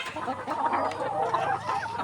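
Layer hens about 190 days old on a poultry farm cluck and murmur together in a steady, close flock chatter, with no talk heard.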